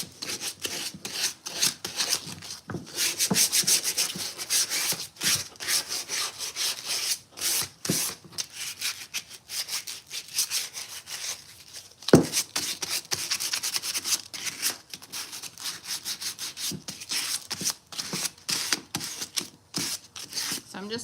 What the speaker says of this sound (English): I'm just coming in and sanding this piece because it didn't really give us enough chippy.